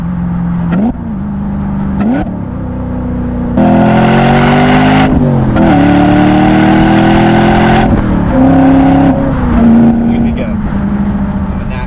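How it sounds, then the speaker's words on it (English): A BMW E92 M3 engine revs hard and loud, rising and falling through several sharp bursts with brief drops between them, close up and with no talking. "gonna make this probably the loudest E92 M3 ever"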